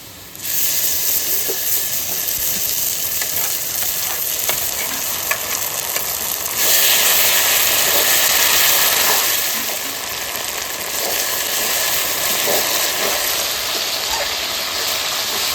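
Spice is tipped into browned onions in a hot pan during home cooking of jackfruit and duck meat, setting off a loud, steady sizzle and hiss with a surge of steam partway through and occasional stirring scrapes.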